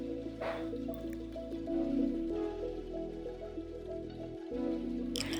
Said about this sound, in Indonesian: Kemudian kita aduk salak yang sudah kita potong-potong tadi hingga tercampur rata dengan bumbu.